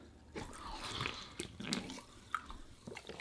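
Soda water poured into a glass, a soft fizzing, splashing stream with small drips, close and moderately quiet, alone without talk.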